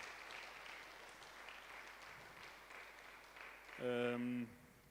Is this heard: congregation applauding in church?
yes